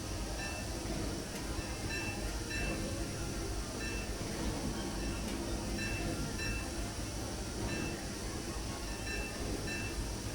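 A continuous rumbling, hissing sound of a steam train braking in the video game Disneyland Railroad Steam Simulator holds steady throughout, with faint metallic squeals and clanks over a dense, noisy roar.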